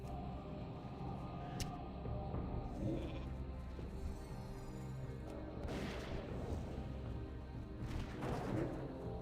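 Quiet sheep bleats from a polymorph spell in WoW Classic, faint and intermittent over a low game soundscape with occasional sharp clicks and swells.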